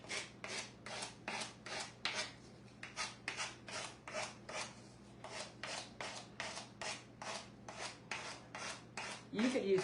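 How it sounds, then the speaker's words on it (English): Steady, rhythmic rasping strokes of a sanding block rubbed along an edge of a gnome craft piece, about two per second, close and fairly loud with no talk. "So my sanding block doesn't have to work quite so hard."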